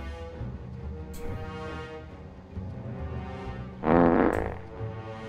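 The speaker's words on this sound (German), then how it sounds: "ihr habt den Furzton jetzt gehört, ich aber nicht" A single loud, buzzing fart sound effect from the LEGO Batman 2: DC Super Heroes video game on Nintendo Wii bursts out over quieter game music and background sound.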